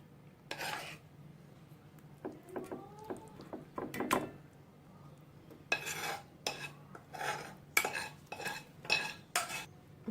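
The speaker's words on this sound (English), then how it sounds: "Then just scoop out the sauce and add it on top of them." A spoon scrapes and taps against a pan while sambal sauce is scooped onto pomfret fish, giving a string of short, quiet clinks and scrapes in irregular bursts, with no talking.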